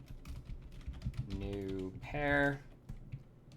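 Keys clatter in quick bursts on a computer keyboard during programming work. Someone speaks between the bursts of typing and over part of it.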